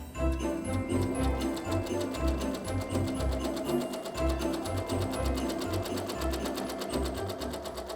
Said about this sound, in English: And now I'm going to start embroidering.